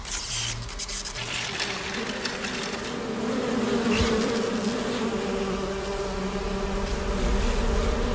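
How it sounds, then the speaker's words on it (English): A dense swarm of buzzing bees drones steadily and loudly from start to finish, a continuous insect hum with a thick, unbroken texture. "Something about the buzzing of bees is so like unnerving."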